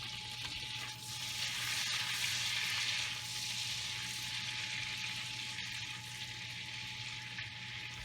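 Sauce for shrimp fettuccine sizzles steadily in a hot pan while being stirred, a continuous close frying hiss that swells slightly and then settles, with no talk.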